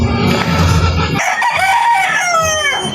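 A Red Kelso broodcock rooster lets out one loud, close crow lasting nearly two seconds, following a moment of rustling and clucking, with no talking.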